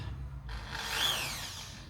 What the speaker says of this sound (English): I'm gonna drill holes and hang it up.